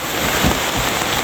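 Steady rain pouring over a transmigration settlement in North Kalimantan, a dense, even hiss with a few low thuds, close and constant, no voices.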